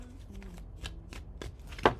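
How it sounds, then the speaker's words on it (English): A deck of playing cards is shuffled in a few quick riffling bursts, crisp and close, with short pauses between them and no talking. "I'm going to actually shuffle for you."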